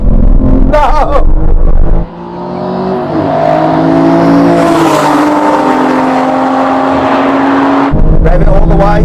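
An Aston Martin at a drag race, its engine revving loud and close as a sustained high whine that climbs in pitch and holds, with excited voices before and after.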